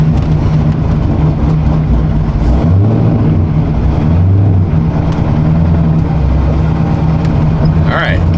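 A manual Corvette Z06 rumbles loud and close as it pulls away gently, its low engine drone steady throughout, with road and cabin noise around it.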